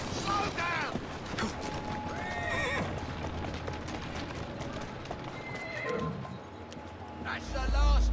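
A horse whinnies loudly amid clopping hooves in Assassin's Creed Syndicate, with game effects and a brief burst near the end; a voice speaks over parts of it.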